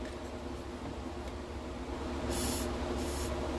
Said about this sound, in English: put a little WD-40 on this